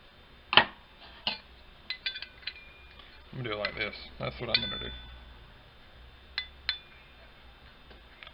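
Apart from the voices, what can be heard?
metal RC stand parts clinking during assembly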